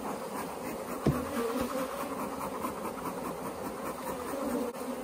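Agitated honeybees buzz densely at an opened hive in South Alabama in October, a continuous close swarm drone with a soft knock near the start.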